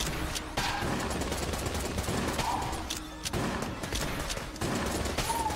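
Repeated gunfire from Uzi-wielding bullet enemies in the video game Exit the Gungeon, dense overlapping volleys of shots in steady, loud bursts with brief dips, continuous throughout.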